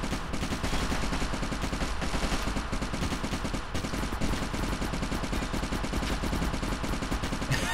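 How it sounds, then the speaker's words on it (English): Sustained rapid turret gunfire in the video game Fallout Equestria Remains, raiders caught in a room full of turrets, a loud unbroken stream of shots and clatter with no pauses. "the turret's already attacking these"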